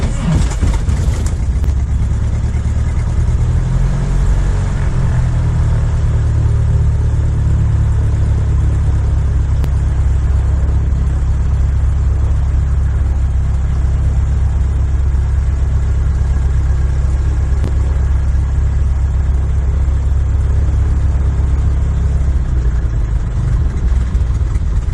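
A homebuilt PA18 float plane's engine, hot and started with one throttle pump, settles into a loud, steady, deep rumbling idle around 500 RPM that runs unbroken throughout.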